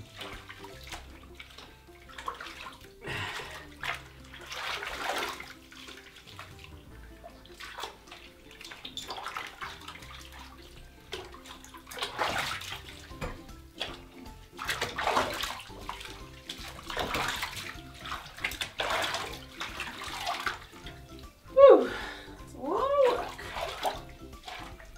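Water sloshes and splashes in a bathtub as a cat is bathed, with intermittent swishing and a few louder splashes near the end, fairly close and moderately quiet.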